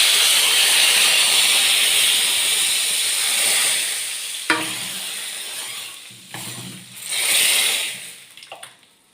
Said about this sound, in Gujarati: અને દાળની અંદર આપણે એનો વઘાર કરી દઈએ.